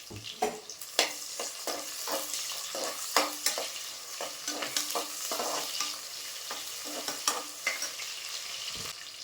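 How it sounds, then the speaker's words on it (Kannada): Onions frying in hot oil with two bay leaves for pulao, a continuous sizzle broken by frequent scraping stirs of a spoon against the pan, close and fairly quiet. "2 ಎಲೆ ಅಷ್ಟು ಪಲಾವ್ ಎಲೆ ಕಾದ್ಮೇಲೆ ಇದಕ್ಕೆ ಆನಿಯನ್ ಹಾಕ್ಕೊಳ್ಳಿ"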